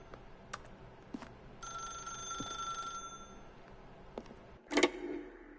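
A telephone rings inside The Stanley Parable, a bright electronic bell burst over quiet room tone, followed by a few soft clicks and a sharp final knock.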